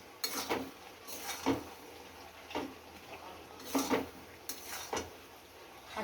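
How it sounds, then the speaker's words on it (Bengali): A spoon intermittently scrapes and clinks against a cooking pot as goat meat is braised and stirred, about six separate metallic knocks spaced over a quiet, faintly bubbling background. "ওই যে মাংস কষাচ্ছি, মাংস কষানো হচ্ছে"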